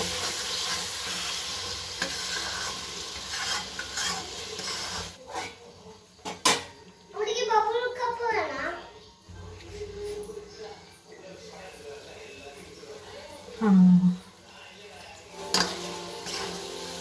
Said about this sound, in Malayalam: ഇതിനെ നന്നായിട്ട് മിക്സ് ചെയ്ത് കൊടുക്കാം കേട്ടോ